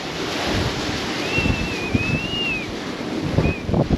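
Storm wind roars and waves surge around yachts moored in a harbour, a constant loud rushing with gusts buffeting the microphone and a thin whistling tone rising briefly above it.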